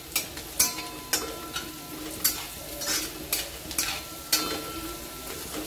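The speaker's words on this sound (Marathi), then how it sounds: "1 चमचा किंवा अर्धा चमचा हळद टाकल्यानंतर छान मिक्स करून घ्यायची अशा पद्धतीने" A spoon stirs turmeric into green chilies sautéing in a pan for tomato bhaji, with sharp scraping strokes at an uneven rhythm over a soft, continuous sizzle, close by and without voices.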